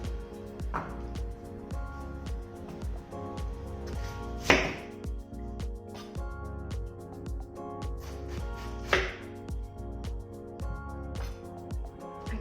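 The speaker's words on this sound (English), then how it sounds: "once all your chopping is done" A knife chops cabbage for sauerkraut in quick, regular taps on a cutting board, fairly quiet under steady background music, with a couple of louder scraping strokes.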